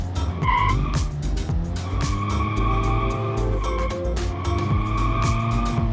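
A car drifting in BeamNG.drive, with continuous loud tire squeal and a revving engine that rises and falls as the car slides through the drift test, with no talk over it.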